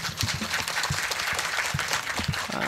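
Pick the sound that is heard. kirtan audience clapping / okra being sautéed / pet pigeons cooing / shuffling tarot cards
kirtan audience clapping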